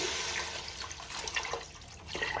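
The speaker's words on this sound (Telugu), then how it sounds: "ఇప్పుడు వాటర్ పోసుకున్నాము" Water poured into a cooking pot for mutton dum biryani, a steady, fairly faint splashing gush that runs continuously for a couple of seconds.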